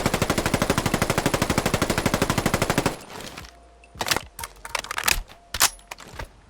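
A QBZ-191 rifle in a Fallout 4 mod fires a full magazine on automatic, a rapid, even burst of loud gunshots for about three seconds. Sharp reload clicks and clacks follow.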